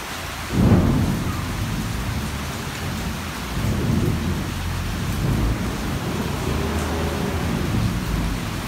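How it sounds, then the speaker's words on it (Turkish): Steady rain falls with deep thunder rumbling throughout, a louder roll near the start, on a stormy night in Zonguldak, Turkey; no talking. "Nasıl seviniyor yağmur yağıyor diye."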